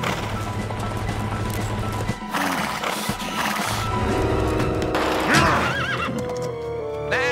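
A wild brumby horse in an animated children's adventure gives loud whinnies and neighs, with clip-clopping hooves and busy background music and effects throughout.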